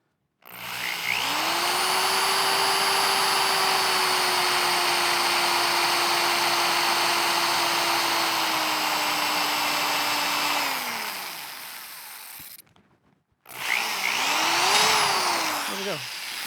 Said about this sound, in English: to start a center drill on the top of a heat-treated, micro-polished 4130 tapered tube